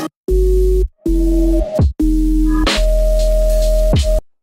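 A clean, simple sine wave synthesizer patch from a song plays in several sustained tones separated by short gaps, loud and pure with faint harmonics and no voices.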